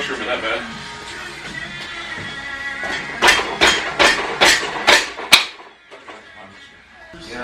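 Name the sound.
hammering on a Harley-Davidson motorcycle part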